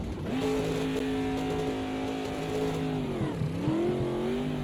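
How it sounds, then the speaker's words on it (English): A muscle car engine in a racing video game starts and revs steadily, with a sustained loud drone and one pitch dip partway through as the revs drop and climb again. "Now I have to start the engine."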